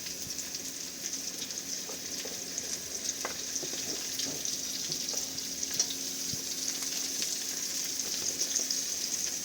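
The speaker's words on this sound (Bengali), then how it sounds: "হালকা ফ্রাই হয়ে গেলে এখানে আমি ক্যাপসিকাম কুচি অ্যাড করে দেবো" Chopped green capsicum frying for white sauce pasta, a continuous soft sizzle in the pan with occasional clicks and scrapes of stirring, close and quiet.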